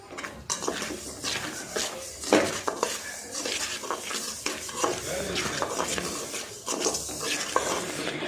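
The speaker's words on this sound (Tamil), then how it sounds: "நல்லா கிளறி விட்டே இருங்க ஃப்ரெண்ட்ஸ்" A spoon keeps stirring semolina and ghee for rava laddu in a metal pan, with continuous close scraping and clinking and a faint sizzle throughout.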